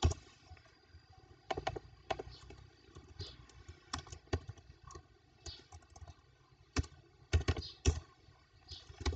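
Keys tap on a computer keyboard in scattered short bursts, close and fairly quiet, with pauses between groups of strokes.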